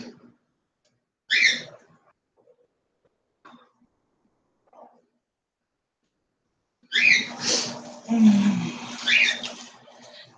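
A pet bird gives a few short, harsh squawks, then a longer burst of raspy chattering calls nearby, with quiet gaps between the early calls.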